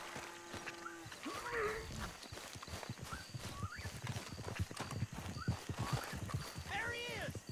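Rhythmic clip-clop of horse hooves at a steady walk in the video game Red Dead Redemption 2, close and fairly loud, with game music and scattered effects in the background.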